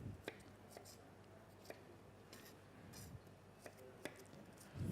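A knife chops white onions on a board in a kitchen: a series of quiet, irregular taps with a faint low background.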